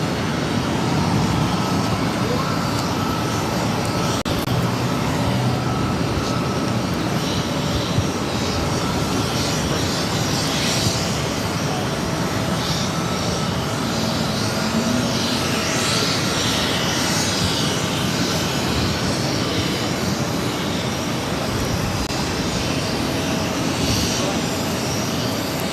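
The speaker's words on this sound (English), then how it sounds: "Airlines 1117 taking off to Charlotte on the A320 Neo" An Airbus A320neo airliner takes off at Boston airport: a loud, steady broadband engine roar that holds for the whole stretch, with voices faintly present underneath.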